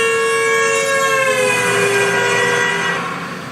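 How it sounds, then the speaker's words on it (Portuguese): A loud, close ambulance siren wails in a steady sustained tone played back from a clip, its pitch gliding gently before it fades slightly at the end. "o som dessa ambulância"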